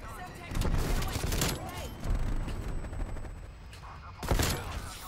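M16 rifle fire in a first-person shooter game rattles in rapid bursts with loud, sharp cracks, while someone talks over the shooting.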